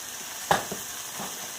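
Garlic and onions frying in a pan for beef stroganoff give a soft, steady sizzle with a brief clatter near the start and quiet crackles running through.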